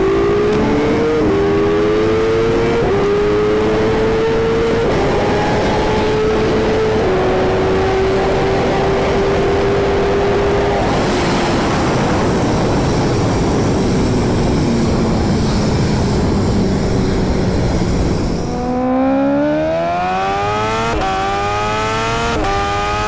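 A 2016 Kawasaki Ninja H2 motorcycle engine with a strange noise, heard at a steady drone with shifting pitch, then a sharp rev climb near the end, loud and close with no talking.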